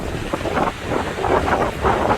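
Strong wind at American Falls, Niagara, buffets the microphone continuously, a loud, rumbling roar with gusty surges and no voices.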